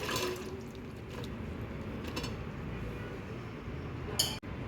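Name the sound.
water draining from soaked cut brinjal pieces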